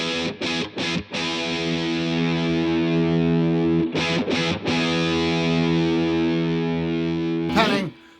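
An electric guitar runs through a Crazy Tube Circuits Venus pedal with the mids scooped, giving a loud, distorted, sustained chord with a few brief choppy strums at the start and in the middle.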